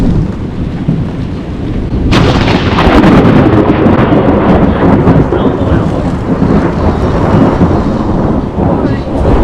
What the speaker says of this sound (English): Smashed with a lightning storm.